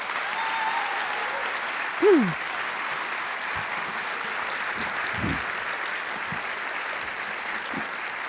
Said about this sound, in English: let's give Ta-Nehisi and Caleb a big round of applause